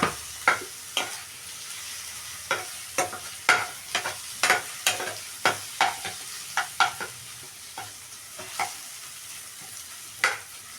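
Turmeric and spices frying in a pan for a prawn curry, a soft continuous sizzle broken by a dozen or so sharp spoon clacks against the pan as the mixture is stirred at an uneven pace.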